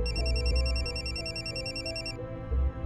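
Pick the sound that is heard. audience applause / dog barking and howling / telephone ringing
telephone ringing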